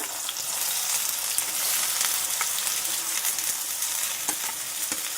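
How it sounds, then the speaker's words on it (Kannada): Onions fry in hot oil with a steady, loud sizzle and crackle, close up, with faint stirring scrapes mixed in throughout. "ಎಣ್ಣೆ ಕಾದ್ಮೇಲೆ ಇವಾಗ ಈರುಳ್ಳಿ ಹಾಕ್ಕೊಳ್ಳೋಣ."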